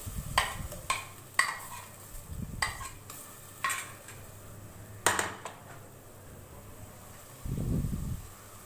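Chopped tomatoes stirred into ginger and garlic frying in a pot for masoor dal, with repeated scraping spoon strokes and clatter over a soft sizzle, ending in a short burst of louder frying.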